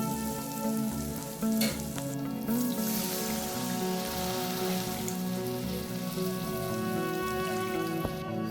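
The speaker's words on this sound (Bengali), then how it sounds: "এবার এর মধ্যে পরিমাণ মতন জলটা আমি দিয়ে দেবো।" Fried spice paste in a pan sizzling steadily with a rain-like crackle after water is added, steady and moderately quiet under a background hum, with no voices.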